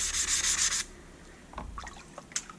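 A Worksharp waterstone rubbed flat on a Harbor Freight diamond hone plate makes a loud, close gritty scrape for just under a second, then softer wet scuffs and light knocks follow.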